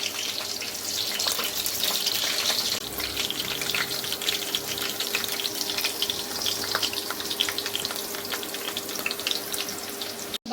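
Indian gooseberries (amla) fry in hot mustard oil in a pan for pickle, making a dense, steady, close sizzling crackle that runs unbroken throughout without any talking.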